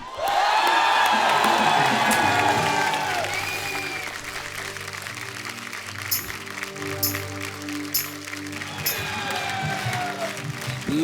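A studio audience at a television comedy show cheers, whoops and applauds loudly as a singer walks onstage. The crowd noise is dense and sustained and tapers slightly, with music and shouts mixed in.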